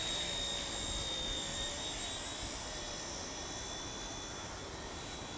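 A WLToys V911S RC helicopter flies indoors, its small rotor and motor giving a steady, even whine with airy wind noise throughout, fairly faint and alone with no talking.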